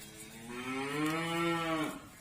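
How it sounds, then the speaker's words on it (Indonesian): A single long, low moo from a water buffalo in a rural village, rising and falling in pitch over about two seconds, fairly close and alone. "ini suara kerbau karena masih kental di sini pedesaan"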